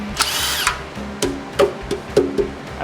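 Power tool, likely an impact driver, zipping off the oil pan bolts on an abandoned 1966 Mustang GT fastback, in a series of short bursts, loud and close, with no talk.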